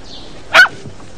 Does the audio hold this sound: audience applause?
no